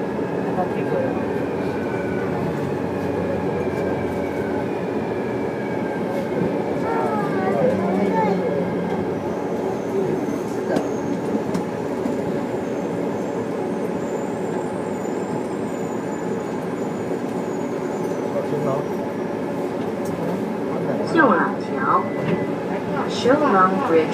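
A New Taipei Metro Circular Line EMU101 train in motion, heard from inside the car as a continuous loud rumble with whining motor tones and occasional squeals and clatter, with people talking throughout.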